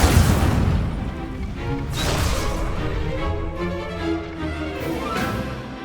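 Fire spell blasts from Hogwarts Legacy, a loud, dense roar with booming bursts that swell and fade in repeated waves over a continuous rumble, no talking.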